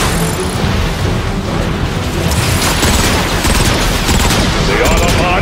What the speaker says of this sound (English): Rocket incoming!